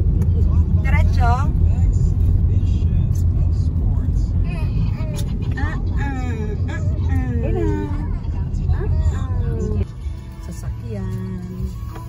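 A car drives through Malolos, Bulacan with a steady low engine and road rumble heard from inside, while people talk over it almost continuously.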